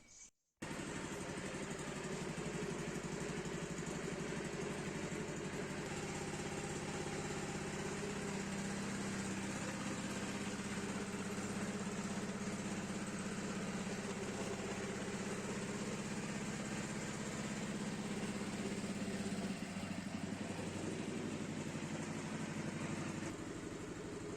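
A mini tractor engine starts with a short burst, then settles into a steady, loud idle that runs unbroken and close by to the end.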